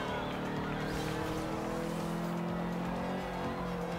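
A car in Forza Horizon 2 drives along with a steady engine drone and tire hum, the motor holding a continuous pitch with slight shifts, loud and alone without talk.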